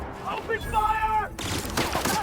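Gunfire in The Outer Worlds, a burst of rapid shots punctuating the scene, with a voice shouting partly over it.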